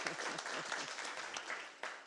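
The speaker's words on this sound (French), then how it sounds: "bravo, bravo, vous applaudissez" Audience applause at a round-table panel on entrepreneurship, a dense patter of clapping that is moderately faint and steady throughout.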